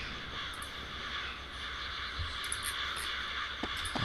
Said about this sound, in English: Why else would someone spawn birds?